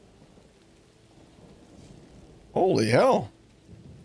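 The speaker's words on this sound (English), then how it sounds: "dude, this just started raining." Rain and thunder in the video game Borderlands 4, with a steady wash of rainfall hissing in the background. A person briefly exclaims over the storm.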